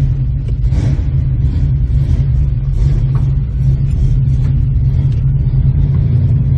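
A classic Ford Mustang Fastback drives along wet Iowa streets, its engine giving a loud, continuous low rumble from inside the car, with slight swells in level as it shifts smoothly through gears.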